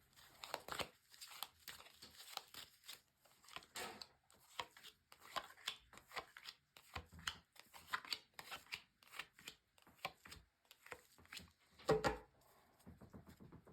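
Quiet, rapid riffling and soft slapping of tarot cards being shuffled, in uneven bursts, close by.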